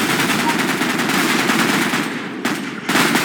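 Rapid automatic gunfire in a Minecraft soldier-training game, a dense continuous burst that runs loud and steady before breaking into shorter separate volleys near the end.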